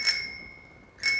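A bell fitted to a pushchair rings in two short, bright bursts of trilling like an old telephone, loud and close, separated by a near-silent gap.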